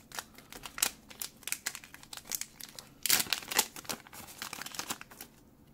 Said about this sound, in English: Last pack.